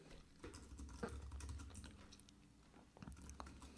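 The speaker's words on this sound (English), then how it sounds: "So what we do is we type into Google" Typing on a computer keyboard, a steady run of quick, fairly quiet key clicks with irregular rhythm and a few firmer strikes, heard close and alone with no voices.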